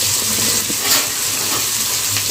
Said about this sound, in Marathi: आणि यांना चांगलं आपण फ्राय करून घेऊया